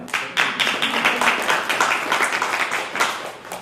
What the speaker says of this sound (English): You can clap if you like.